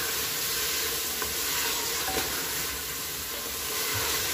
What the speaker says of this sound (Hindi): ये तो आप देख सकते हैं मैं इसको अच्छी तरह से भून रही हूँ